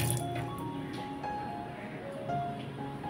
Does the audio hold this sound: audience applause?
no